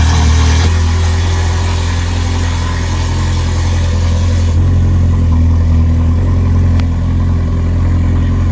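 A Ferrari 430 Scuderia with a Capristo exhaust idles while warming up, a steady, deep rumble close by, holding a constant pitch throughout with no talking.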